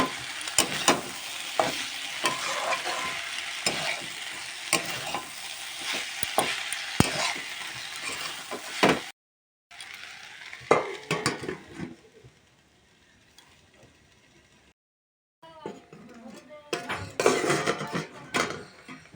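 Potatoes with turmeric sizzle and fry in a pan while being stirred, with repeated scraping strokes over a steady crackle, broken by short silent gaps.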